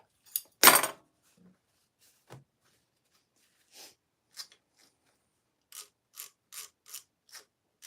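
A jamming sewing machine chews fabric while sewing a clutch wallet interior, giving one loud clunk, then scattered sharp mechanical clicks and a quick ticking run near the end, close by with no voices.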